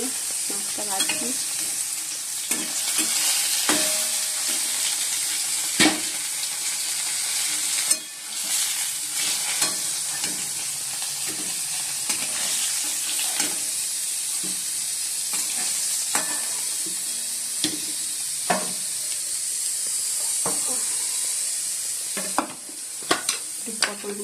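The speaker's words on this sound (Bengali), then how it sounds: "মাছটা ভাজছি।" Fish frying in hot oil in a wok, a steady close sizzle with scattered sharp spatters and stirring clicks throughout, no talking.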